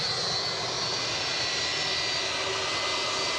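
A United airliner departing Edinburgh for Chicago gives a steady, sustained engine roar, fairly distant and constant throughout, with no voices.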